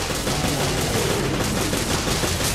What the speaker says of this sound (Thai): สาดด้วยปืนกลครับ